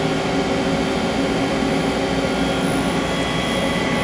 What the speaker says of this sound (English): right now we'll go ahead and run the spindle